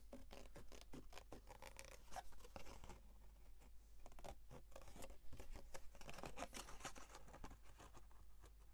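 Scissors cut through paper, with a steady run of close snips and rustling paper in an otherwise quiet room.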